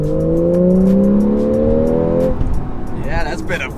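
A Porsche 911 50th Anniversary Edition accelerates hard in second gear. The loud engine note climbs steadily in pitch for about two seconds, then drops off into road and cabin noise, with brief voices near the end.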